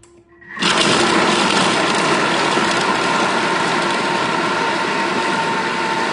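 A Thermomix whirs to life at speed 6, blending apricot and duck breast filling with a steady, loud, close motor roar that holds evenly after a brief quiet start.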